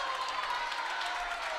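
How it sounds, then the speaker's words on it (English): A steady wash of crowd applause at a high school boys basketball game, dense and continuous, heard from a distance throughout. "Those 2 seniors get a nice round of applause as well."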